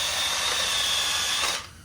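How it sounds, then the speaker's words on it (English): Power drill whirring steadily while drilling the head off a bolt on a Yamaha Banshee during teardown, close and continuous for over a second before spinning down abruptly. "if we drill the head off"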